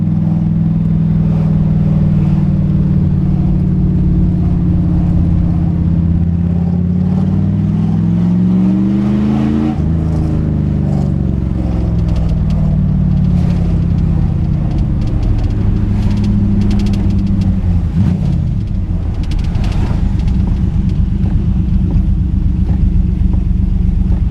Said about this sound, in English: Just giving it a tiny bit of gas there and it's getting all kinds of sideways, fishtailing up the road.